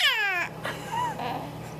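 A person imitates an angry cat with a rising, wavering meow-like yowl, followed by shorter strained cries and vocal noises, loud and close.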